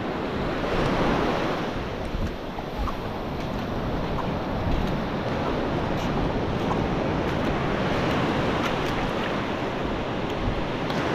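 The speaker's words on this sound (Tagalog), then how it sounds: "Medyo may alon lang ngayon pero manageable naman." Ocean waves wash steadily onto a shallow beach at low tide with mild surf, forming a continuous loud roar with slow swells, and wind buffets the microphone throughout.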